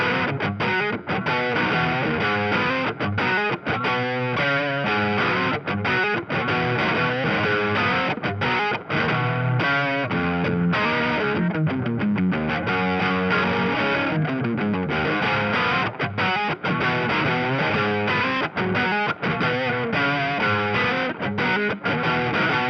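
Stratocaster-style guitar on the neck pickup driven through stacked overdrive and distortion pedals, loud saturated chords and riffs ringing continuously with sustain and brief gaps, no talking.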